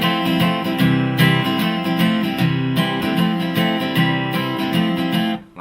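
An acoustic guitar plays a chord pattern with an added pinky note, live-style voicing, strummed in a steady rhythm close and loud for several seconds before cutting off abruptly, with no talking.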